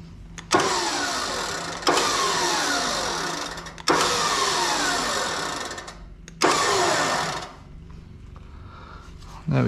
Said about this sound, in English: Now we'll crank up that winch.